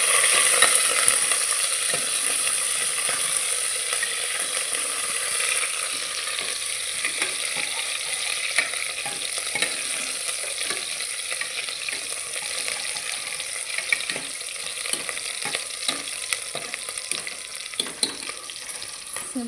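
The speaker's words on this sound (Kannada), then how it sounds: "ಈರುಳ್ಳಿ ಚೆನ್ನಾಗಿ ಬಾಡಲಿ" Onions sauté in a pan with a steady, close sizzle and frequent stirring scrapes throughout, with no voices.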